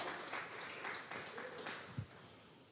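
Congregation clapping during a Sunday church service, faint scattered applause in a few soft bursts, with a voice speaking over it.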